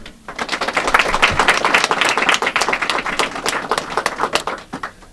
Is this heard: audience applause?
yes